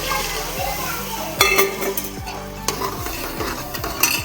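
Mixed vegetables sizzle in a tempering for pulao while a spoon stirs and scrapes the pot in sharp bursts, close by, with children's voices and household noise in the background.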